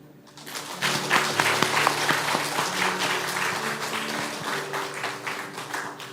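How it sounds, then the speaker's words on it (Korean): A church congregation applauds at a Sunday service, broad steady clapping from many hands filling the room for several seconds, with a faint tonal hum and a few soft voices beneath. "다시 한번 박수 부탁드리겠습니다"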